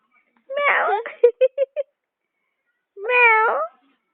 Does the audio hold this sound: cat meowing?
yes